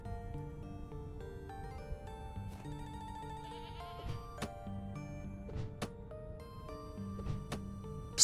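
Goat bleating in the Vintage Story survival game, short cries over tonal game music with occasional ticks and clicks, fairly quiet.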